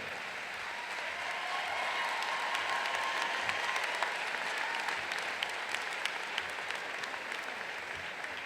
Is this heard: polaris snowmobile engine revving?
no